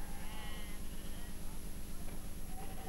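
Sheep bleat in a few wavering calls over a steady, noisy background at the weekly sheep and livestock market on the big square in Schagen, West-Friesland.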